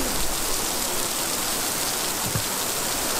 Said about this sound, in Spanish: Lluvia por todos lados.